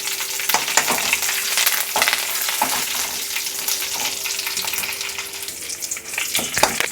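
Curry leaves splutter in hot oil for mango tokku, a loud continuous sizzle with frequent sharp crackles and pops, heard close throughout.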